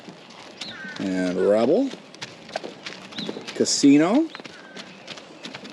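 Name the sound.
horses walking, hooves clip-clopping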